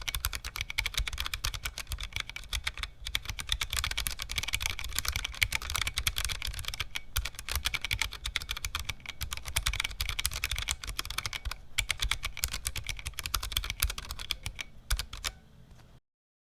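Fast, continuous typing on a thin handwired mechanical keyboard with resin keycaps and transparent housings: a dense run of crisp clicks and clacks, close and steady for about fifteen seconds, then abrupt silence.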